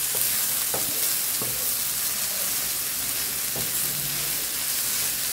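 Paneer stirred and fried in a pan on a stove that has just been switched off, giving a steady close sizzle with a few sharp spatula scrapes against the pan. No one speaks.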